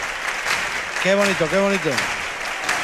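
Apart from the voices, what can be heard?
audience applause at the Falla theatre chirigota contest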